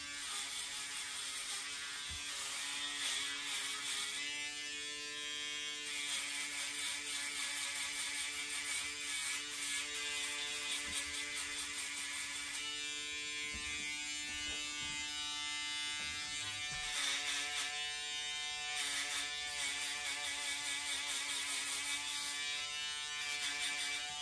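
An electric box shaver buzzes continuously while cutting hair on the sides during a quick fade haircut, a steady close whirring drone with small shifts in pitch and texture as it moves across the head.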